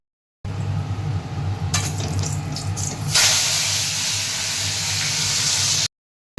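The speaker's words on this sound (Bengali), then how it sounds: "এই যে এখন আমি মাছ ভাজাটা করে নেবো" Fish frying in smoking-hot oil in a kadai, a steady broad sizzle and hiss that swells louder near the midpoint and carries on evenly without voices before cutting off.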